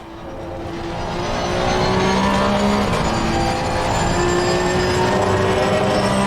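A Porsche GT3 Cup 992 race car engine in the Assetto Corsa Competizione racing game swells into a loud, sustained exhaust drone with rising and falling pitch as the car is driven hard, with no talk over it.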